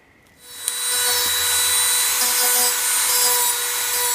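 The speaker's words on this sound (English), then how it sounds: "I then turn to my trusty Dremel tool and a selection of sanding bits to carve and detail the edges" Steady high-pitched whirring of a small Dremel rotary tool with a sanding bit grinding foam scenery, starting after a brief pause and continuing loudly without break.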